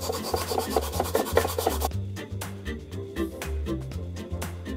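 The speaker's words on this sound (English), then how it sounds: "I can clamp them to this tool and then hand sand them" Hand sanding of small wood pieces clamped to a tool, a steady run of close, rhythmic rasping strokes that continue without pause and with no talk.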